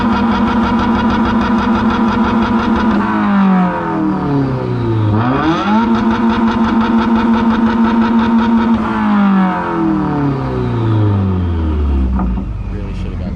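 A 2021 Subaru WRX at a Subaru exhaust competition revs hard and loud up close, its exhaust note rising and falling through several sweeping revs before dropping back toward idle, with crowd voices faintly underneath.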